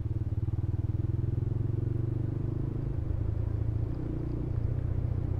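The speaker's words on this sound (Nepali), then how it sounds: "चिसो हावा खाँदै बाइक राइड हान्दै" A motorcycle rides along a hill road with its engine thrumming low and steady, close and continuous, along with rushing wind noise and no clear speech.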